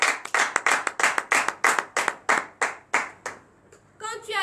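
A congregation at a morning prayer service in Benin claps in acclamation, a run of sharp rhythmic handclaps at a brisk steady pace that slows and thins out before a voice begins speaking.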